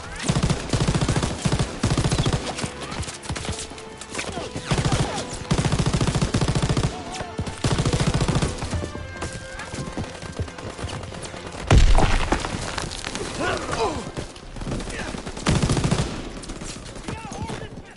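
Bursts of heavy machine gun fire in a Call of Duty WW2 battle, rattling volleys broken by short pauses, with a loud thump partway through and battlefield noise around them.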